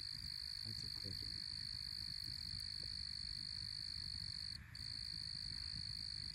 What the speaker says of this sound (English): That's a cricket, and I hear a bullfrog in the pond right now.